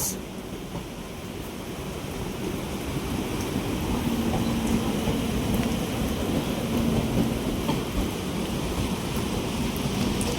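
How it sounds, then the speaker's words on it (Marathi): Heavy monsoon rain roars steadily outside a moving Konkan-route express train between Vasai Road and Ratnagiri, a dense continuous wash with low rumbling underneath and no voices. "पाऊस ना खूप पडतो आहे बाहेर"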